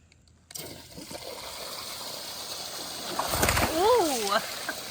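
Water splashes and gurgles loudly as it is filled into an alligator's enclosure, swelling to a rushing pour midway, with a person's voice rising over it toward the end.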